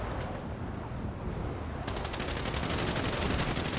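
Rapid bursts of automatic gunfire in a video game gang war rattle continuously, growing denser and louder midway, with a constant background hiss.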